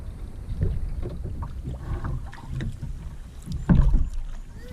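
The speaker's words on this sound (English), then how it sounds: "No, keep paddling that side." A kayak paddled on Black River, with irregular paddle splashes and water swishes close by, a louder splash near the end, and light wind rumble on the microphone.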